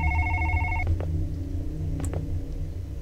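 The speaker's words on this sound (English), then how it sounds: "So I assume we're gonna take the phone here." A telephone rings in the horror video game One Late Night, a bright electronic ring that cuts off abruptly, followed by a couple of faint clicks in a quiet, humming room.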